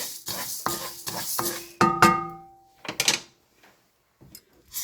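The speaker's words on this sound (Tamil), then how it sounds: "நல்லா செவந்து வந்துடுச்சு. அதான் நம்ம ஒரு தட்டில் கொட்டிக்கலாம்." Dry-roasted dal lentils tipped from a metal pan onto a plate, a series of rattling pours and scrapes with ringing metallic clinks in between, ending in a few faint taps and quiet gaps.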